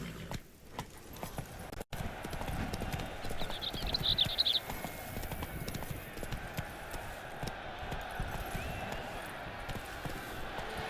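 Roach, the horse in The Witcher 3: Blood and Wine, gallops with steady clip-clop hoofbeats over a dense game soundscape, loud and continuous throughout.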